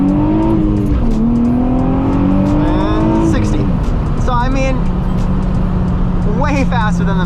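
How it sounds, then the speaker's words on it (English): A Nissan 350Z accelerates hard from a standstill through rising gears, its loud engine climbing in pitch before settling, up close and under a speaking voice. "So, all right guys, so we're gonna do a little 0 to 60 test."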